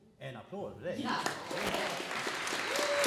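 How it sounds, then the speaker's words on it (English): A voice speaks briefly before a group at a microchipping party breaks into applause. Clapping and cheering swell and hold steady under some overlapping voices. "An applause,"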